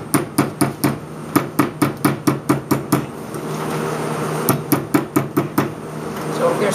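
A hammer planishes a thin metal ribbon for a double helix, striking in a quick steady run of sharp ringing taps, pausing briefly, then resuming another rapid series, close and fairly loud.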